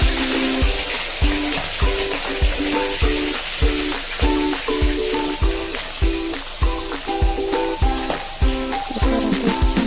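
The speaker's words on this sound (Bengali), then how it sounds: "এবার মাছের মাথাটা দিয়ে দিলাম।" A fish head fries in hot oil in a wok, a loud, steady sizzle with rhythmic stirring scrapes, close and alone with no talk.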